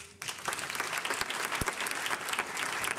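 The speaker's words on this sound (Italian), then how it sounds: "E qua voglio un applauso." A theatre audience at an amateur Sister Act musical breaks into applause, a dense burst of clapping that starts abruptly and stays full and steady to the end, fairly near with a few louder individual claps.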